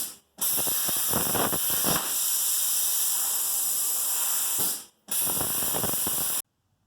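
A plasma table cuts metal tubes with a loud, harsh hiss, two long bursts separated by a short gap, then sudden silence, with no voices.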